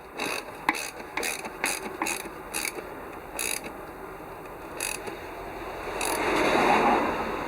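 A spanner ratchets in quick bursts of clicking while tightening a nut on a Royal Enfield Bullet's primary drive during a clutch and alternator rebuild, close and fairly quiet, followed by a brief faint rustle.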